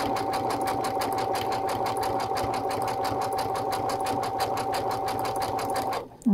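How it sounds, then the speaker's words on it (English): A Brother embroidery machine satin stitches an applique, a fast, even mechanical whirring with steady rhythmic needle beats, close and continuous for about six seconds before stopping. "As you can see that the stitches are being built underneath."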